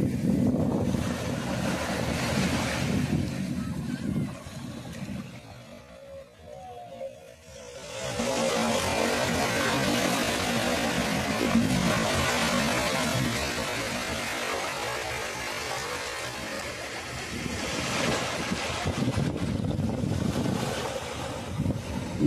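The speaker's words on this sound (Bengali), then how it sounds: "চলো শুনে নেওয়া যাক সেই সমুদ্রের ঢেউয়ের শব্দ" Sea waves roll onto the beach at Bakkhali while wind buffets the microphone, a loud continuous roar and rush that briefly drops away before swelling back.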